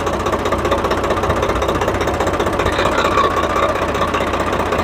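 A Swaraj tractor engine, with a power steering oil seal leak, runs loud and close, with a rapid, steady knocking chug and a constant vibrating rumble.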